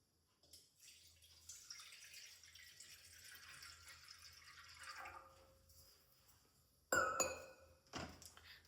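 Water poured from a small vessel into a cooking pot sitting on a lit gas stove, a soft continuous splashing stream that builds and tails off, followed by a few brief metallic clinks near the end.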